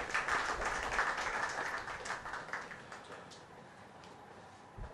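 An audience applauds to welcome speakers on stage, a steady patter of clapping that gradually fades softer, heard from a distance.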